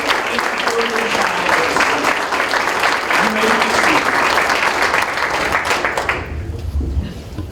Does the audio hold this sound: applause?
yes